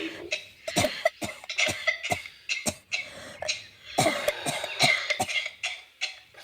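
An ill mother coughs repeatedly in a dramatized home scene, with a rapid series of sharp, close, rough coughs in clusters and brief pauses between them, and no talking.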